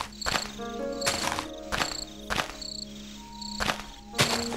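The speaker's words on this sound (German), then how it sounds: "Wo sitzen die Grillen denn eigentlich? Man hört die wie bekloppt." Crickets chirp in the game Minecraft in a repeated pattern of short sharp bursts about once a second, with faint tonal chirps between them and no talking.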